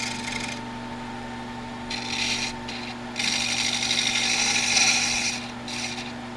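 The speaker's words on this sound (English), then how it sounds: "I'm sawing through this as far as I can before I get to the screws." A hand saw rasps through a segmented spalted maple vessel on a wood lathe in several bursts of rough back-and-forth strokes, with a steady electrical hum underneath.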